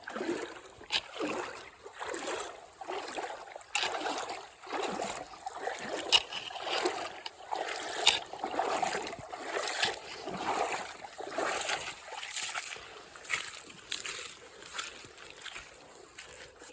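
Footsteps in camp sandals wading across a stream on a hiking trail: rhythmic sloshing and splashing strides through shallow water, close and moderately loud over a steady background of flowing water.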